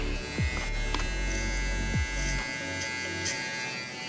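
Hair clippers fitted with a half guard run steadily through a taper cut, giving a close, continuous electric buzz with slight shifts in pitch as the blade moves through hair.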